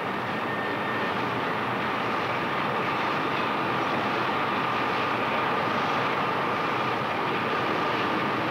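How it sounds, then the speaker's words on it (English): A freight train rolls past in a steady, dense rumble with broad rushing noise and a faint high whine, loud and close, unchanging throughout. "Trains pass each other"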